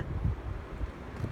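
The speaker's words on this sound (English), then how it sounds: "It's super windy outside and cold" High winds blowing outdoors on a cold day, a short burst of low rumbling buffeting against the microphone, close and unsteady, with no talking.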